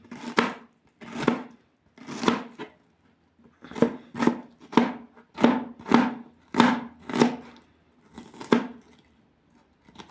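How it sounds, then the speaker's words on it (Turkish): A knife chops through onions on a board in steady, crisp strokes, about a dozen close, distinct cuts with short pauses between them. "soğan doğradım."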